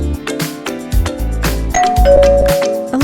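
Philips video doorbell chime ringing a clear ding-dong tone, loud and close, repeated over a few seconds.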